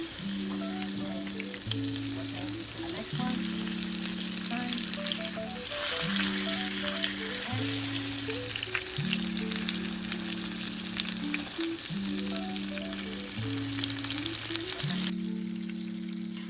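Honey-glazed salmon fries in a skillet with a dense, steady sizzle and crackle throughout, while a looping melody plays over it and no one speaks.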